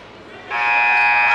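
A scoreboard buzzer in a high school girls' basketball gym marks halftime between Tippecanoe Valley and Maconaquah, blaring loud and steady for about a second after a brief stretch of crowd murmur.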